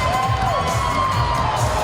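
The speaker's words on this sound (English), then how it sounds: "give him a round of applause also" A crowd cheers and shouts steadily at a fight night event, loud and close, with a whistle-like whoop rising over the continuous roar.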